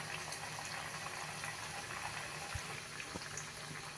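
Multigrain vada fries in hot oil, giving a continuous, fairly faint bubbling sizzle with a few soft knocks in between.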